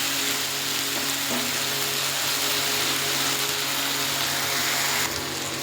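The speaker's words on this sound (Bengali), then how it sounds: "এবার দেবো আদা বাটা, রসুন বাটা আর লঙ্কা বাটা" Ginger, garlic and chilli paste fries in a pan with tomato in oil, giving a loud, dense, continuous sizzle up close, with a faint hum underneath and a brief clatter near the end, no speech.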